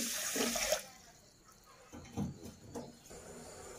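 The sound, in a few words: water poured from a glass into a pot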